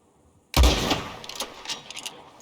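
A single gunshot from the video game Red Dead Redemption 2 cracks out loud and close, followed by a rolling echo that fades over the next two seconds with no talk.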